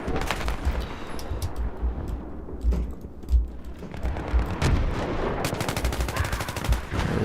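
Sustained gunfire in Battlefield 3, rapid automatic bursts and single heavy reports with rumbling thuds, loud and dense throughout, with a sharp run of shots near the end.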